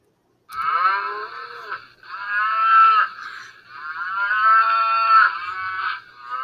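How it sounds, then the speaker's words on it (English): A cow mooing inside a farm barn where she has come to be milked: several loud, close, drawn-out moos in quick succession, with no talking. "One of the cows has come inside to be milked."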